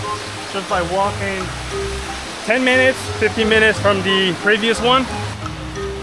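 Steady rushing roar of a waterfall on the Zodiac Trail in Siquijor, Philippines, a constant broadband wash of falling water heard close by beneath someone talking throughout.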